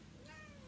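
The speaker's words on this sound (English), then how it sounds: "I was hoping I could get a meow out of her." A cat lets out a single short, faint meow, heard indoors and barely lasting a moment.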